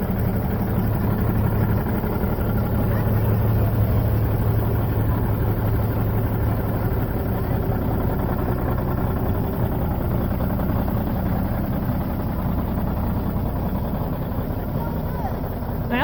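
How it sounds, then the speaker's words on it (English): A tractor engine runs in freezing cold weather, a continuous low, rumbling idle that holds steady from start to finish, with people talking over it. "You want me to move the tractor?"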